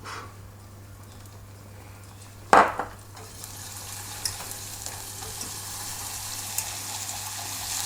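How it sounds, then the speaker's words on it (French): Butter pieces dropped into hot caramel with one sharp splash, then a steady sizzle and quiet stirring in the pan under a faint constant hum. "On va d'abord ajouter le beurre que j'ai coupé en petits morceaux."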